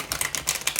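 A tarot card deck is shuffled in quick succession, producing a run of crisp, papery card flutters and snaps at close range with no voices.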